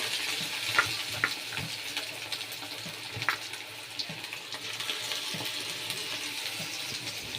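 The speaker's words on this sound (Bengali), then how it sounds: "এই যে ভাজছি চিকেন পকোড়া" Chicken pakoras frying in hot oil, a steady close sizzle with scattered crackles and pops running throughout, no talking.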